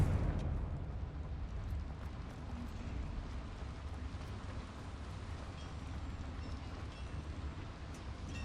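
A Confringo blasting spell detonates in the Hogwarts Legacy video game, a loud, sustained rumbling roar of explosive noise that fills the whole span without pause.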